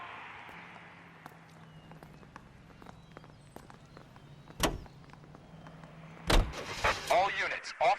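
A car drives in the video game L.A. Noire, with a low steady engine hum dotted with small clicks and thumps, then louder bursts of noise near the end.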